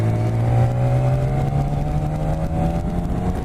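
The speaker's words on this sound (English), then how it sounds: "Look at that engine sound." A 2018 BMW K1600 GT motorcycle engine drones low and steady close by, rising slightly in pitch as it revs gently and holds a throaty idle.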